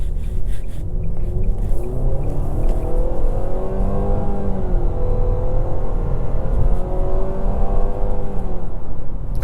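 A 2024 Nissan Sentra SR engine accelerating in sport mode, heard from inside the car as a steady, loud engine drone that rises in pitch in repeated upward sweeps as it shifts through gears, with no talk over it.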